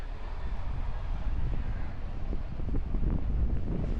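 Wind buffets the microphone at Lion's Head in foggy Baguio, a steady, close, low rumbling roar with gusty surges.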